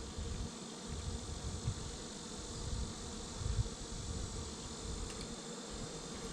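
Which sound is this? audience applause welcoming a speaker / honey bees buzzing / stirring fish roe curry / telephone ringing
honey bees buzzing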